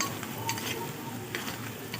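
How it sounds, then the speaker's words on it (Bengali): Beans and carrots stir-frying in a pan for chow mein, a steady close sizzle broken by a few sharp scrapes and clinks as a utensil stirs the vegetables. "বিনস গাজর অর্ধেকটা ফ্রাই হয়ে গেলে তারপর আমরা ক্যাপসিকামটা দেব"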